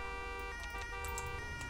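Police siren in GTA V with the LSPDFR mod, on a Bavarian police BMW, wailing steadily and loudly through the whole stretch over a rumbling engine, with no talk.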